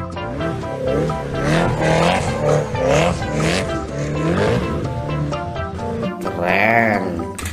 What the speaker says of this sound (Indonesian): Widih, lihat teman-teman, ada mobil Lamborghini.